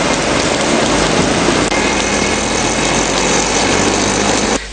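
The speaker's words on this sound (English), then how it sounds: "the Mathura district is also experiencing heavy rain" Heavy rain pours steadily in the Mathura district during a storm with strong winds, a dense, loud, unbroken hiss that holds evenly before cutting off abruptly near the end.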